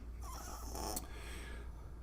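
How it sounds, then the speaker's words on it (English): A dog snores and snorts up close in a quiet room, one drawn-out rasping breath with a nasal snort at its peak, followed by softer breathing. "this is Hunter snoring. He's a snorter"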